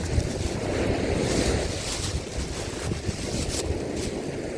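Strong, gusting wind roars over the microphone with the wash of Black Sea surf beneath it at Odesa, loud and continuous.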